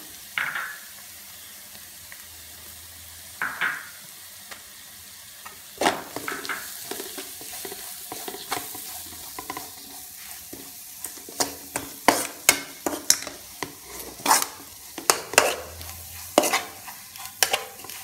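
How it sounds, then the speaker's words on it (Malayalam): Spices sautéing in a pan for masala potato paratha: a quiet sizzle broken by repeated sharp scrapes and clinks of a spoon stirring, growing busier toward the end, with no speech. "ഇനി നേരത്തെ എടുത്തു വെച്ച മസാലകൾ ഓരോന്നായിട്ട് ഇട്ട് വഴറ്റാം"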